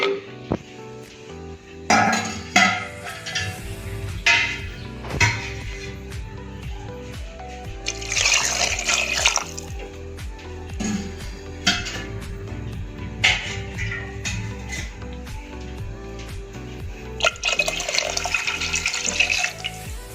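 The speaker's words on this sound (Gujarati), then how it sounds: "હવે આમાં આપણે પાણી એડ કરી દઈશું" Water splashes into a metal cooking pot in several bursts for rasam rice, with occasional clinks and knocks of cookware in between; no one speaks.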